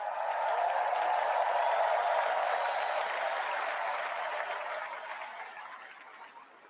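A large political convention crowd claps steadily in a dense, sustained wash of applause that holds for several seconds, then gradually thins and fades toward the end, with no talk over it.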